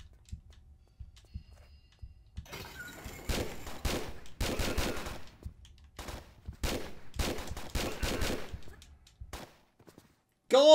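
Video game gunfire in Tomb Raider 3 Remastered, heard as several loud bursts of rapid shots separated by short pauses, with soft footsteps between them and no talk.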